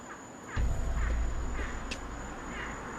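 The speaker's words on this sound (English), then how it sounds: "Well, that's a bird now" A crow-like bird caws several times near an abandoned building, faint and somewhat distant over a low rumbling background.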